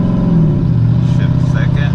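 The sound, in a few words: Silverado 5.3L V8 engine with TSP 224R cam revving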